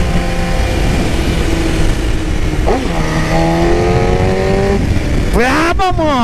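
Loud BMW S 1000 RR sport bike with a stainless-steel Atalla exhaust header, engine revving hard through rising, falling and surging pitch sweeps, close and continuous, with excited talking over it.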